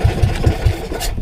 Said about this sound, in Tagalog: Palyado na naman nating makina. Pamhirang makina yan.